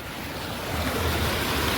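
Water from a tube-well motor pours steadily into a maize field plot, a continuous close rushing wash that swells slightly and carries no voices.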